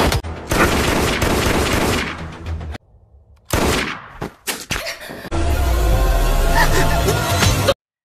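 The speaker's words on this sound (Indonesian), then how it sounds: "peluru yang ditembakkan Shao Jiang menembus tubuhnya" Gunshot effect in an animated Chinese donghua battle, loud bursts of gunfire and booming impacts in several clustered volleys with brief gaps, followed by a sustained loud rumbling stretch.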